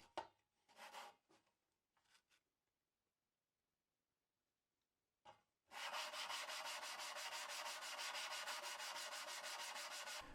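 An Arkansas sharpening stone rubs in strokes on loose grit while being flattened: a few faint scrapes and taps, a near-silent pause, then a loud, continuous gritty grinding that runs steadily to the end.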